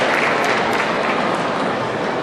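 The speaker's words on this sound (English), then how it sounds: "let's give a big round of applause" A big audience applauds to welcome a feng shui master on stage, steady dense clapping filling the room at full volume with no break.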